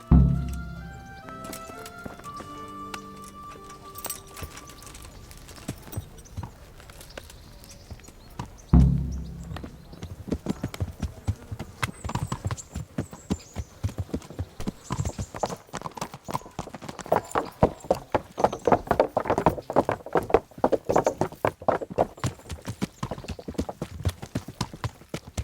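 Horse hooves clip-clop steadily through most of the clip in the medieval video game Kingdom Come: Deliverance, beginning after a short musical opening and continuing as a dense, even walking rhythm to the end.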